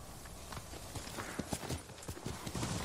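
Horse hooves clip-clop at a quick gallop in the samurai video game Ghost of Tsushima, a steady run of close, sharp hoofbeats over a constant ambient wash.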